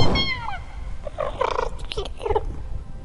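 A cat's vocalizations up close, a rising-falling meow-like cry followed by several short moaning calls.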